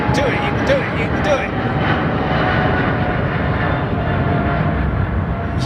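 A Korean Air airliner roars steadily during a sunset departure, a broad loud jet rumble heard from a distance while a man eagerly cheers it on over the noise.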